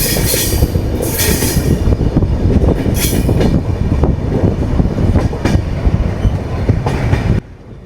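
A passenger train on the Bangalore to Mangalore line travels through monsoon country with a loud, close rumble, rattling wagons and brief squealing wheels, then drops away near the end.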